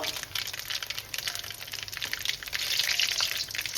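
Dry red chillies, mustard seeds and whole cumin crackle and sizzle steadily in hot oil for a dal tempering, a close, continuous frying hiss that swells slightly toward the end, with no voices.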